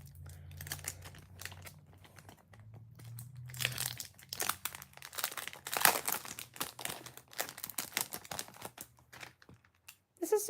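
Crinkly plastic packaging of a concert freebie being opened and handled up close, with irregular crackling bursts and rustles that grow denser midway, plus faint low background hum.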